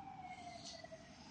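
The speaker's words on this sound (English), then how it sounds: "Definitely left the door open a bit so we can hear the sirens a bit better." Emergency vehicle sirens drift in through a slightly open door, a steady, fairly faint wail heard from indoors with no talking over it.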